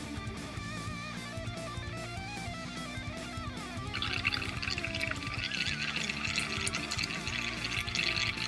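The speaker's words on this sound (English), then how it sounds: "Just rinse out my brush real quick." A paintbrush swished and rinsed in a water pot between colours while painting miniatures, a steady liquid churn that grows louder halfway through, layered over continuous background music.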